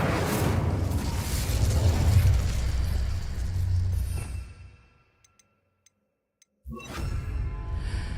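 Incendio fire spell cast in Hogwarts Legacy, a loud roaring whoosh of flame that fades out into near silence with a few faint ticks, before another burst of sound cuts back in.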